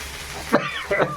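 Spice masala with chili powder and turmeric fries in a pan with a steady, soft sizzle throughout, while a voice briefly speaks over it.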